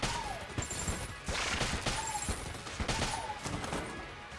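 The Cog of Battle gun firing in the video game Enter the Gungeon, dense rapid shots in repeated loud bursts with game effects mixed in.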